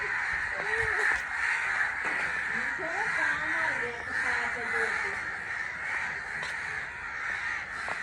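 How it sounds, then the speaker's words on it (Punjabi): A large flock of crows gathered over a village house caws loudly and repeatedly, harsh overlapping calls filling the air close by, with voices speaking faintly underneath. "ਇੰਨੇ ਕਾਂ ਇਹ ਇੰਨੇ ਕਾਂ ਪਤਾ ਨਹੀਂ ਕਦੋਂ ਇਕੱਠੇ ਹੋ ਗਏ।"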